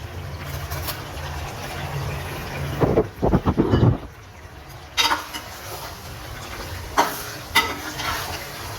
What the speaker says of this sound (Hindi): टमाटर को हमने अच्छे से भूनना है